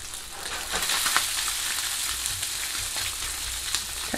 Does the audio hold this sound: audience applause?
no